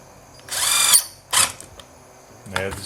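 A power drill whines in two bursts while boring a screw hole in a wooden box, first a longer rising spin, then a short one, followed by a brief ratcheting buzz; close and fairly loud.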